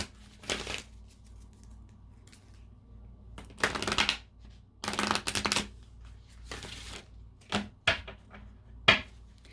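Moonology oracle cards are shuffled and drawn in quiet, close riffling bursts, spaced irregularly with soft rustles and a few sharp flicks in between.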